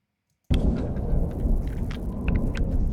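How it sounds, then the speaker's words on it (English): Thunder from a sound design reel bursts in abruptly after a short silence, then rolls on as a dense, loud rumble with rain-like crackle. "Some thunder."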